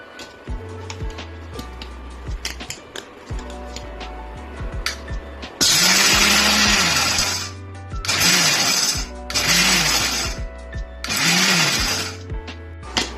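A mixer grinder pulses roasted peanuts, with four loud whirring bursts of a few seconds each broken by short pauses, following a stretch of lighter clicking and handling noises.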